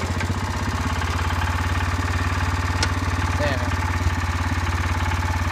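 A Wheel Horse C-81 garden tractor engine idles in a steady, loud, low putting rhythm, with someone speaking briefly over it.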